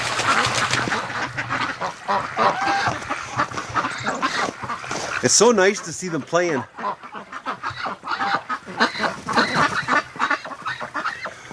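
Ducks quack and geese honk in a busy, overlapping flock on a winter afternoon, with loud close honking in the middle and a person briefly speaking near the end.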